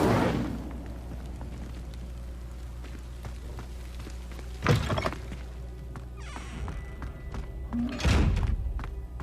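Incendio fire spell cast in Hogwarts Legacy gameplay, heard as two sudden whooshing bursts with thuds, about halfway through and near the end, over a steady low game ambience.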